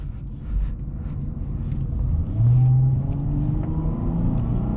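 A 2013 Chrysler 300 Touring accelerates in traffic, heard from inside as a low, steady engine rumble whose pitch climbs and swells midway, then holds; no voices over it.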